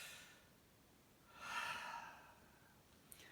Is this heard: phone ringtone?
no